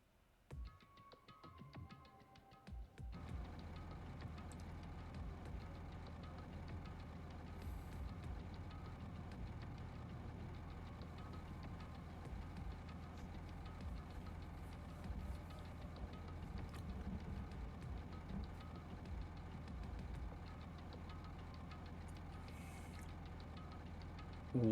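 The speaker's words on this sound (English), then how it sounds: "The first thing I noticed was the roaring engine of a nearby truck." Truck engine roaring at a factory in the video game Danganronpa 2, a steady low rumble that kicks in after a few seconds and holds evenly to the end, with no voices over it.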